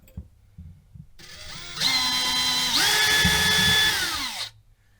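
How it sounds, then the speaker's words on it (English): A small power drill boring a pilot hole during a caravan gas regulator repair, whirring up in pitch, holding a steady whine for a couple of seconds, then spinning down, close and loud. "Small drill in it for a pilot hole."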